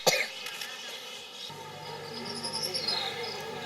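A person with a worsening cough lets out one sharp cough at the start, followed by a low steady hum and faint background sounds.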